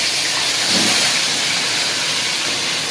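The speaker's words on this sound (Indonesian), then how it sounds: "Kita lanjutkan goreng di sini." Flour-battered food fries in a pan, giving a loud, continuous hissing sizzle that holds steady throughout without any talking.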